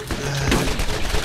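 Bursts of rapid gunfire from the video game Borderlands crackle loudly and close in a brief, dense volley with no speech.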